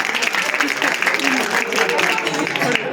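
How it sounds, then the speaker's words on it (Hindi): Parents and students at a computer centre event in Naggar clap together in a dense, steady burst of applause, fairly close and loud, with a voice briefly heard over it. "सभी इनके लिए जोरदार तालियां करेंगे, जोर से बेटा"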